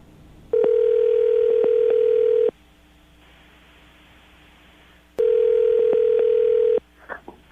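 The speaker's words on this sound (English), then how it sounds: "I'm going to dial the phone number right now, get her on the phone" A telephone line gives two long, steady tone bursts about two seconds each, with a quiet gap of several seconds between them, like a call ringing through. A faint click and rustle come at the end.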